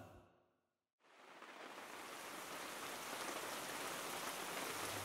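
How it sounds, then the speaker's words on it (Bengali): Heavy rain pours in a dense, steady hiss that begins abruptly after a brief fading sound and then continues evenly, close and enveloping. "19শে ডিসেম্বরের সকালবেলায় ঝড় ঝড় করে বৃষ্টি ঝরছে।"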